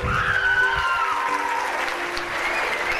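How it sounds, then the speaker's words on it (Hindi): A large crowd at a Hindi motivational talk claps loudly and continuously for several seconds, with a faint tonal hum running underneath. "अपने लिए जोरदार तालियां करो फिर।"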